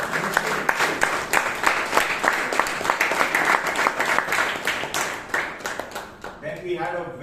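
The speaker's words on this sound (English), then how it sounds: "Please give all the evaluators and all the people a huge round of applause." An audience applauds at a Toastmasters club meeting, with steady, fairly close clapping from a small group that fades at the end as a voice begins.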